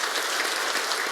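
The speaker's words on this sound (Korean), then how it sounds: "그렇게 생각하는 사람들 위해서 박수 한번 쳐주세요." A church audience at a charismatic Catholic renewal retreat in Korea applauds together, a dense, steady wash of many hands clapping that fills the hall throughout.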